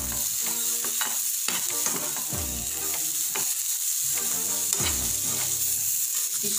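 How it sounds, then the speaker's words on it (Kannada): Grated coconut and curry leaves dry-roast in a pan for wedding-style pineapple gojju, giving a close, steady sizzle broken by repeated scraping stirs of a spoon against the pan, with no talking. "ಈಗ ನಾನು ಇದಕ್ಕೆ ತೆಂಗಿನಕಾಯಿ ಮತ್ತು ಕರ್ಬೇವಿನ ಸೊಪ್ಪು ಹಾಕ್ಕೊಂಡು ಅದನ್ನು 1 ನಿಮಿಷ ನೀವು ಇದನ್ನು ರೋಸ್ಟ್ ಮಾಡ್ಕೊಂಡ್ರೆ ಸಾಕು"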